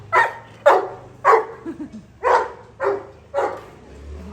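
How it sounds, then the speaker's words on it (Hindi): Two pet dogs, Leo and Sheru, bark repeatedly in a loose rhythm of about six sharp barks, with a couple of softer yips in between, fairly close and loud, with no talking. "शेरू वहाँ भौंक रहे हैं।"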